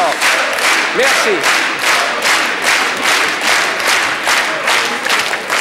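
Loud, sustained clapping from a French television studio audience fills the space, with scattered shouts and whistles over the continuous applause.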